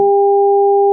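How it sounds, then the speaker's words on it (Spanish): Two steady pure electronic tones sound together, a sine wave with a second added frequency, loud and unwavering for about a second with a brief low blip at the very start. "aquí es un ejemplo bastante parecido con una sinusoide que suena."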